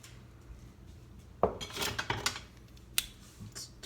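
Smoked pork belly burnt ends tossed in barbecue sauce, with a few sharp clanks and scrapes of utensil against pan over a quiet background.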